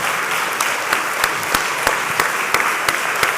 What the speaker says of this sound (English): So a warm round of applause for Mayor David Briley and Councilman John Cooper